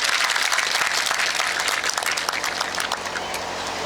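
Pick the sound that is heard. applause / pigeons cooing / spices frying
applause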